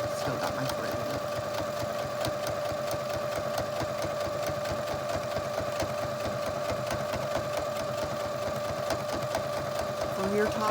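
A sewing machine runs steadily, top stitching along the edge of a zippered pouch, its fast even chatter continuing throughout at close range with no talk over it.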